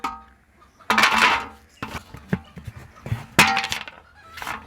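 Almonds and raisins are chopped finely with a knife, giving several sharp, close knocks and cracks at uneven intervals, some louder and some softer, with quiet gaps between them and no talking.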